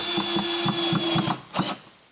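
A table saw trims the ends of new wooden cottage soffits against a clamped stop, giving a series of short, close rasping cuts in a steady rhythm over a faint motor whine, then one louder pass before it fades.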